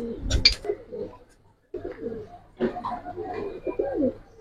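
Silver pigeons cooing in short, close rounded phrases, with a brief sharp burst near the start and a pause before the calls resume.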